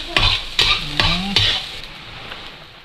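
Garlic sizzling in a hot pan as a utensil stirs it, with four distinct scraping strokes over a steady frying crackle that fades toward the end.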